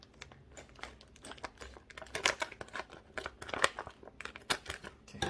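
US military MRE ration packaging is cut and torn open with scissors close to the microphone, giving dense, irregular crinkles and plastic crackles that build in bursts.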